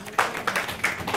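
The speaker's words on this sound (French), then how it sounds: "Acclamons pour Jésus." A church congregation claps in acclamation for Jesus, a short burst of a few sharp, uneven claps close by, fairly loud against a quiet room background.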